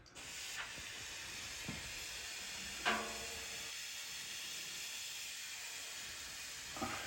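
A powder-coating spray gun applies Illusion Ruby coating to Ford 5.0 Coyote engine valve covers with a continuous, faint, airy hiss, broken by a few brief soft clicks and pops.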